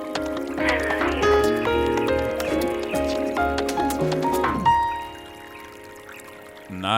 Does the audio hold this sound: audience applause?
no